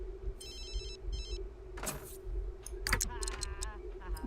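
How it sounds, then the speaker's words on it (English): A phone rings in The Sims 3: two short bursts of a trilling electronic ring, followed by clattery game effects and some background voices. "Oh, her phone's ringing."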